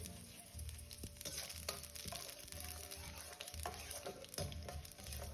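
Cumin seeds sizzling in hot frying oil as the tempering for a Kerala koottu curry, a steady dense frying hiss with small crackles and occasional stirring clatter, close and fairly quiet.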